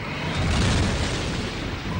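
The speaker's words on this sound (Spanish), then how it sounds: "Algunas estrellas al morir producen una explosión supernova." A supernova explosion sound effect: a dense, sustained rumbling roar with broad noisy texture, loud throughout the two seconds with no clear single onset, heard alone without talking.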